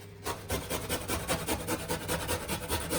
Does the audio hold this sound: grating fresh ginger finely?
yes